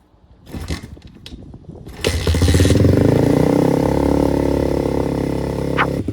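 An Apollo RXF 125 dirt bike on its original exhaust is started and revved, opening with mechanical clatter and kicks, then a loud sustained engine drone with a rising pitch and a brief blip near the end.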